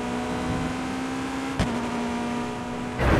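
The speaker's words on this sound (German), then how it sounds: "Die Karre klingt auf jeden Fall knackig" Steady car engine drone in the video game Watch Dogs 2, holding a constant hum with a brief knock partway through and a rougher burst of noise at the end, no talk.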